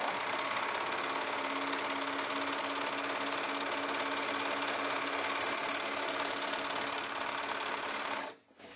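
A sewing machine stitches fabric fed under the presser foot, running in one loud, steady whir for about eight seconds before stopping abruptly.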